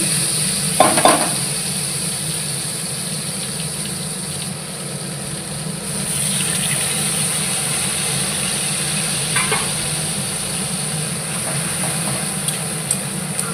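Crushed ginger, onion and garlic paste fries in a pan with a loud, steady hiss and sizzle that runs unbroken throughout, broken by a few faint clinks early on.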